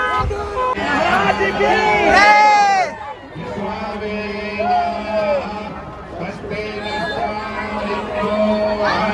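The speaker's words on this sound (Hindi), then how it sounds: "और यहाँ में देख सकते हैं गाइस सब लोग, इतना ज़्यादा भीड़ है" A large crowd of devotees chatters at a live Shrimad Bhagwat katha gathering, a dense, steady babble of many voices close by, with one voice rising above the hubbub near the start.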